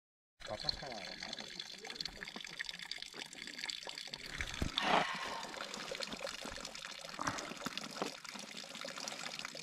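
Cold mountain fountain water at about 1180 metres trickles and splashes steadily into a basin, close and continuous, while people talk quietly nearby.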